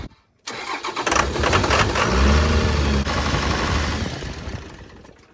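A twin turbo Cummins diesel truck engine cranks and fires up with a loud roar, settles into a rough running rumble, then gradually fades as it stalls out.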